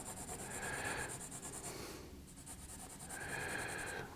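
Pencil hatching on paper during a quick sketch, two long bursts of steady scratchy rubbing with a short pause between, close and fairly quiet with no voice.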